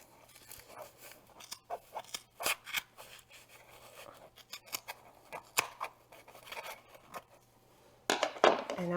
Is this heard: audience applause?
no